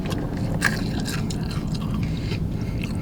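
Crunchy bites into a crispy bacon, egg and cheese sandwich from a Mineola, New York deli, a few close chewing crunches and scrapes over steady low background hum.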